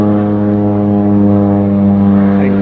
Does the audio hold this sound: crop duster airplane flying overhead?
yes